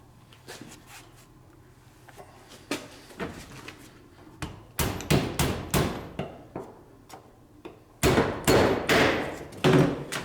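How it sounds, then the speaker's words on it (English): A metal rod for a rug weaving loom gets its end bent, heard as sharp metallic taps and hammer-like blows, sparse at first, then faster clustered strikes, close and loud. "I bent this end of the rod about 3/4 of an inch or so"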